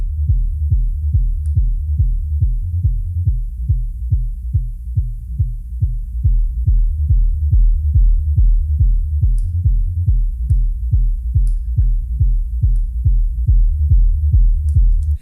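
Deep sub-bass below 60 hertz pulses in a music track, a steady throbbing low-end beat thumping in regular rhythm, loud and alone with almost nothing above it.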